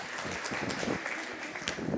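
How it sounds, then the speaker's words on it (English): Dense applause from a conference audience, a steady wash of clapping at moderate loudness with some voices mixed in. "Okay, give yourselves a round of applause as well."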